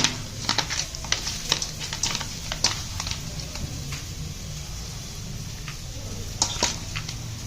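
Fish pieces being mixed by hand with a marinade of spices, green chilli paste and white oil in a bowl for a Bengali katla kalia, giving soft, wet squelching and scraping taps in irregular bursts, close and fairly quiet.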